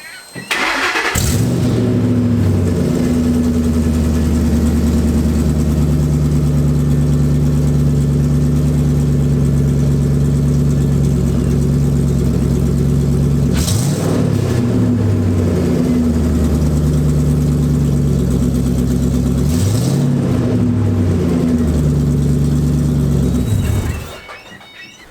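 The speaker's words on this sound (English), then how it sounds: "Either way, exhaust is on. Let's hear it." A drift car with a freshly welded exhaust starts up and idles loudly and steadily, with a deep, even drone and a couple of brief blips of revving, before it cuts off near the end.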